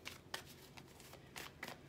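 Tarot and oracle cards being shuffled by hand in a quiet room, a soft riffling flutter of several brief bursts without talk.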